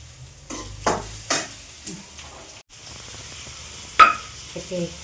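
Ingredients are quickly sautéed in a pan, with a soft frying sizzle broken by several distinct scraping stir strokes and a sharp clatter near the end.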